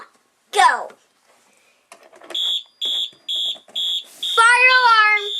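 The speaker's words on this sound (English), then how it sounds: "Fire alarm. And this tone is march time." A Wheelock fire alarm sounds a march-time tone: a voice and brief speech come first, then four evenly spaced electronic blasts, followed by a rising-and-falling whooping tone, loud and close.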